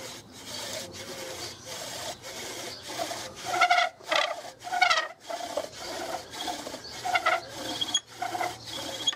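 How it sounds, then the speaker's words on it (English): A bow drill spindle rubs against an MDF board during a friction fire attempt, giving repeated rasping, squeaky strokes in a steady back-and-forth rhythm, each stroke a bright scratchy chirp, close and fairly loud with no talking. "Yeah, it's sort of chirping, not getting hot, it's not hot enough yet. Loads of friction, it's not happy."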